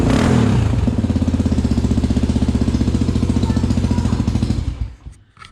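A Honda XR400R dirt bike engine with a carburetor fault runs close by, a loud steady thumping idle with quick regular pulses for several seconds before it cuts out and sputters to a stop.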